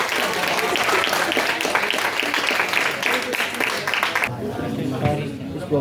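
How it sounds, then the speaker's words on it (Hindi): Audience applause during a college quiz competition for World Braille Day, a dense, steady wash of clapping with crowd chatter that cuts off abruptly near the end, leaving a voice speaking over the room. "एक बार जोरदार तालियां स्वागत करें"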